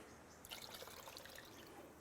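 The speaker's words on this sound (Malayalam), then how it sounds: "അപ്പോൾ ഇനി നമുക്ക് കുറച്ച് വെള്ളം കൂടി ഇതിൽ ചേർക്കണം." Water poured into a pot of Kerala-style mackerel fish curry with kudampuli, a soft trickling splash that swells in the middle of a short stretch under steady background hiss.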